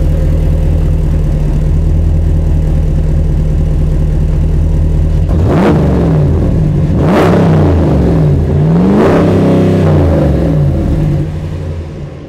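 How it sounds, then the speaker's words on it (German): A Dodge Ram pickup pulling a fiberglass fifth-wheel motorhome idles with a deep, steady rumble, then its engine is revved three times in sharp rising and falling surges, loud and close, before the idle fades. "Magst du mal ein bisschen Gas geben?"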